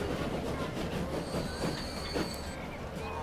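A train pulls into a station in Transport Fever with a steady rumbling roll, clattering wheels and thin metallic squeals above it. The sound is continuous and moderately loud, with no voices.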